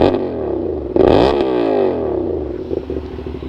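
A 450SR motorcycle fitted with a full-system exhaust, revved hard from idle so the engine note climbs and sweeps upward, then falls back to a rough, burbling idle, loud and close with no talking.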